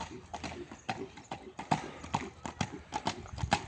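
A horse walks at a slow pace in the summer heat at a Kyrgyz horse event, its hooves clip-clopping in a steady repeated rhythm, fairly close, with a faint voice and a soft whinny-like sound now and then.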